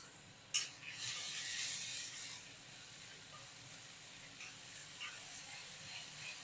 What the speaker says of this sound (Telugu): ఈ ఉల్లి ముద్ద బాగా వేగాలండి